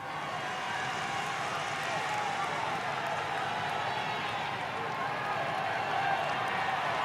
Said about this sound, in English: Crowd cheering hard.